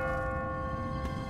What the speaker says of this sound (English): What kind of church bell goes off at 20 past the hour?